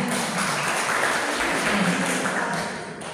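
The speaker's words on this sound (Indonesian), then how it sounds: "Tepuk tangan buat Dela" A crowd at a Rotary event for young women on National Kebaya Day gives steady, dense applause that holds for a few seconds before tapering off.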